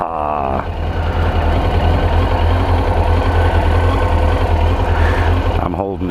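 A 2002 Suzuki GSXR 1000 motorcycle engine idles cold after a first start, a loud, steady low throbbing drone close by, with a voice briefly audible over it.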